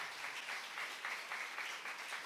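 A church congregation applauds during a Korean sermon, dense steady clapping from many hands filling the room at moderate volume, with no speech over it.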